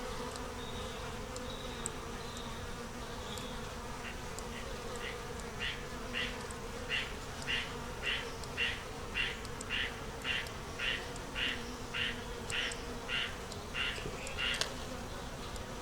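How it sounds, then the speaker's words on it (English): Honey bees in a small four-frame nuc hive hum in a steady, close drone, with a run of regular pulsing buzzes rising and fading in rhythm through the middle. "The bees are doing a little dancing,"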